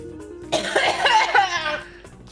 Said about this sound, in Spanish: Tose encima.